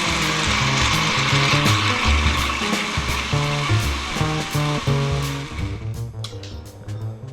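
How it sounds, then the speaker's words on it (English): A blender whirs loudly through a banana and blueberry smoothie, a dense churning motor roar with pulsing, shifting tones that ease slightly near the end. "the blender's about to switch on, it'll get noisy"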